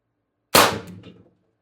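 An Umarex TR50 high-pressure air gun at 1100 psi fires one 12.7mm ball bearing into plywood, giving a single sharp, loud crack that fades quickly with a short rattling tail.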